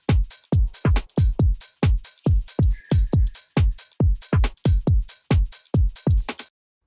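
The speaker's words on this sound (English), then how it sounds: "So the full drums together sound like this." Jersey club style drum pattern for a beat: punchy kicks in a bouncy, fast rhythm with snares and rim hits, loud and alone, running about six seconds before stopping.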